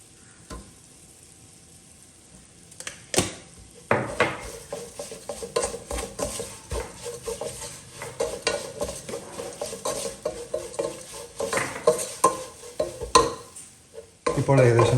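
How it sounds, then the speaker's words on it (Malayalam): Onion-tomato masala for black chana curry, seasoned with garam masala and salt, sizzles in a pan. After a quiet start, a spoon scrapes and stirs it in irregular close bursts over a soft, steady frying hiss. "ഇപ്പോൾ ഏകദേശം മസാലയൊക്കെ ഒന്ന് റോസ്റ്റായി വന്നിട്ടുണ്ട്"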